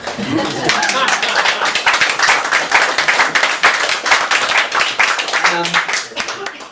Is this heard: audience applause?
yes